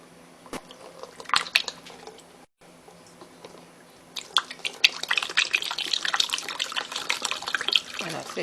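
Rose and lavender hair spritz is poured into a jar: a few sharp clicks and faint drips come first, then a brief silence, then a continuous splashing trickle of liquid that keeps going to the end.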